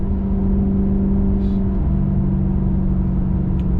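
A Maserati GranTurismo engine roars loudly and continuously, with a strong low drone whose pitch shifts partway through, as if between gears. Only faint higher noises sit over it, and no one speaks.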